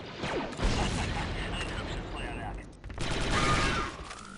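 Explosives detonating in the Star Wars Republic Commando video game, a loud sustained burst of blasts and crackling debris with a short dip before a second heavy wave of explosions.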